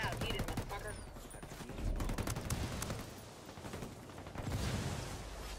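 Gunfire in a video game shootout at a trainyard comes as repeated rapid shots and bursts over a dense, noisy backdrop, moderately loud, with a voice briefly heard.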